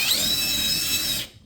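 A power drill bores a pilot hole for fitting plaster cornice, a steady high whine running close and loud for over a second before cutting off abruptly.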